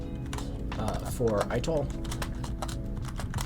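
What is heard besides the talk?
typing on a computer keyboard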